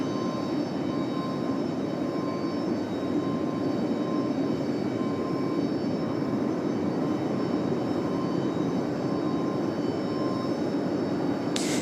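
A JetBlue airliner in special Dominican Republic livery arrives at Raleigh-Durham International Airport, its engines a steady, moderately loud roar that holds evenly with no one speaking.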